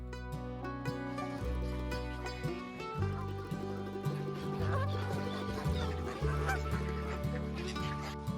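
A flock of ducks on a large duck farm honks and quacks continuously and loudly, with many overlapping calls close by and no talk.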